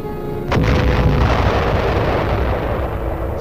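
An atomic bomb explosion from a 1970s civil defense film on protection against atomic attack, a sudden loud blast followed by a sustained, rumbling roar that slowly eases.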